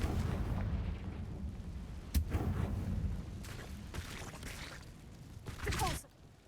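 Blasting Confringo spell explosions in Hogwarts Legacy, a few sharp bursts with rumbling tails rising out of a steady low ambient bed, at moderate loudness with no talking.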